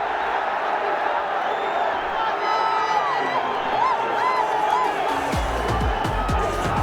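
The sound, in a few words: cricket crowd cheering a six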